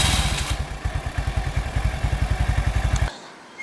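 A Suzuki Nex scooter's electric starter clacks in a rapid, even rhythm of dull thumping beats, running for about three seconds before cutting off abruptly.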